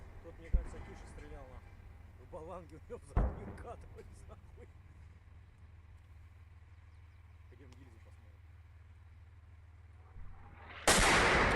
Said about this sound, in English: Here's a video of a Russian tank firing its main cannon in support of Russian infantry in the forests